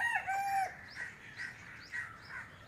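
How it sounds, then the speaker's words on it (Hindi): A jungle fowl crows at Patna Zoo, a short, faint cock-a-doodle call heard from a distance, followed by a few soft clucks against a quiet outdoor background. "जंगली मुर्गी है"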